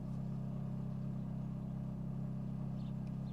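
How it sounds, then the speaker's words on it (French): Steady low engine rumble from inside a Ferrari F430 on a narrow country road as another car approaches. The drone is constant and moderately loud, and no voices are heard. "on croise une seule voiture dans le seul chemin qui mène à nous."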